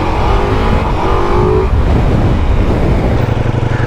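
A Ducati Multistrada V4 motorcycle pulls away on an overcast, breezy day, its engine revving up with a loud, rising rumble and then settling into a steady, close drone over wind noise.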